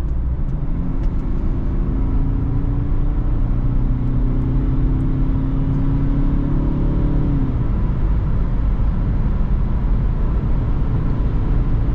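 A 150 HP Mercedes C220 CDI W203 diesel accelerates hard from 100 to 200 km/h in a low gear on an empty Autobahn. A steady engine drone rises in pitch and eases off with a shift, all under loud road and wind roar heard from inside.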